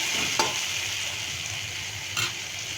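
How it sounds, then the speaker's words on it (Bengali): Sliced onion with salt sizzles steadily in a hot pan, a constant soft frying hiss with two brief scraping stirs of the spatula, close and fairly quiet. "পেঁয়াজটার মধ্যে আমি একটু পরিমাণ মতন নুন দিয়ে দিচ্ছি, দিয়ে পেঁয়াজটাকে আমি হালকা করে ভেজে নেব"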